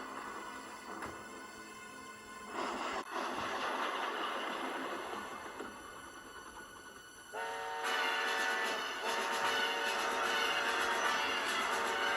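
A train approaching over a bridge weakened by an accident in the TUGS model series, with a steady rumble of rolling wagons building and then a long sustained horn blast joining it in the final seconds, loud and close.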